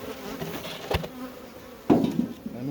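Honeybees buzz around an old beehive during a summer hive inspection, a close, steady drone with a couple of brief louder thumps or knocks, no speech.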